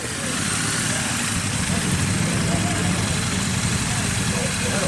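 A Royal Enfield motorcycle comes back from a demo-day test ride at a Sheffield dealership. Its steady engine rumble runs throughout at a constant level, with no clear rise or fall.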